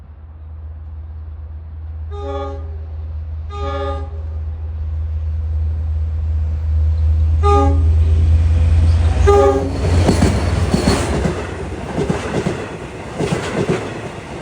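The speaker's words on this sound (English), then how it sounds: "approaching eastbound at 9:11 is train 6008, the second Jamaica Montauk train of the day" An eastbound Long Island Rail Road Montauk Branch train approaches, sounding several loud horn blasts in a rhythmic sequence over a steady low rumble, then rolls past with growing rail clatter and roar.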